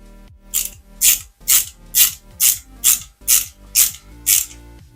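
Screws being tightened into a plastic part of a Toyota Supra MK4 scale model, giving about nine evenly spaced ratcheting clicks in a steady rhythm, close and fairly loud with no talk.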